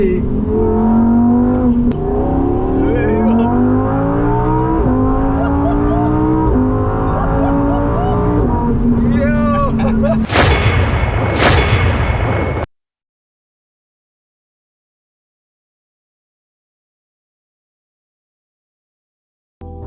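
Lamborghini Huracan V10 accelerating hard, engine note climbing steadily through gears with shift breaks, loud and close, ending in a sharp rev burst before cutting to silence.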